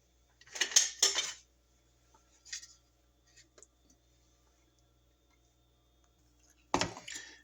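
Close metallic clinks of a spoon stirring in a pot of homemade turkey sausage and chicken dressing, a few lighter taps, then a sharp clatter as a lid is set on top; otherwise quiet.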